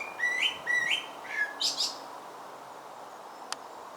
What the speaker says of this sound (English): If anybody knows what sort of birds makes that noise that I'm hearing